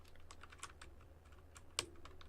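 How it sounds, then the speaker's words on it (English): An office keyboard is typed on while resting on a desk-covering mouse mat, giving soft, muted, rapid keystrokes close by with one sharper clack near the end, with no voices. "Another way to improve the sound of a keyboard is you put it on a mouse mat"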